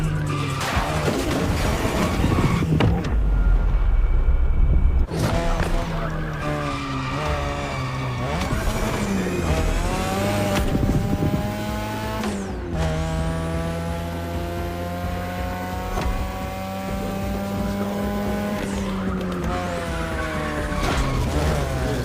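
A 2002 third-generation Mazda RX-7 with a rotary engine drifting in the racing game The Crew Motorfest, its engine whining steadily at high revs with sustained tire squeal and shifting pitch throughout, loud and close with no talk.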